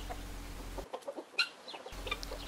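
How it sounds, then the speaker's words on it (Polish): Jersey hens in a farmyard let out a few soft, scattered clucks, faint and close, broken by a short moment of near silence. "Kury, które tutaj widzimy, należą do gatunku jerseyów."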